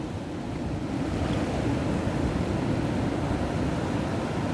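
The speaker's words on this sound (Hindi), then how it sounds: "वो पीछे से लहरें आ रही हैं, देखिए।" Ocean waves wash onto a beach in a continuous, steady roar mixed with wind noise buffeting the microphone, with no distinct breaks between swells.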